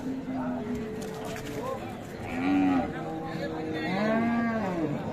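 Cattle at a market moo several times with drawn-out, nearby lowing calls over a busy crowd murmur, and people talk in the background.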